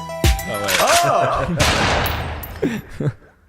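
Bursts of rapid gunfire from a sound effect, loud and close, breaking through the middle of the exchange while people talk and laugh over it.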